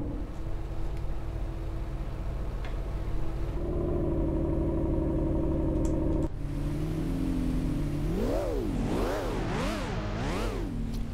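Lamborghini Reventon engine in City Car Driving, first idling and humming, then climbing in pitch, and finally revved repeatedly in quick rising-and-falling bursts, loud and close with no voices.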